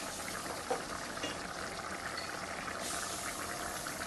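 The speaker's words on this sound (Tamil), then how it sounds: "இப்போ நம்ம அதை கொதிக்க விடணும்" Water for vegetable brinji rice simmers in a cooking pot, a soft, steady bubbling hiss heard close but faint, with no talking over it.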